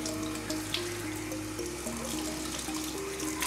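Makeup brushes are rinsed under a running tap at a sink, with a steady splash and trickle of water filling the scene, fairly close, no voices.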